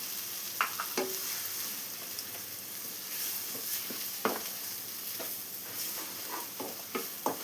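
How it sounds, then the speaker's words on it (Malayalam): Egg stirred and frying with drumstick leaves in a pan, a constant soft sizzle with occasional spatula scrapes and taps against the pan, close and moderately quiet. "എഗ്ഗ് ചേർത്ത് നന്നായി ഇതിലെല്ലാം മിക്സ് ചെയ്തെടുക്കണം"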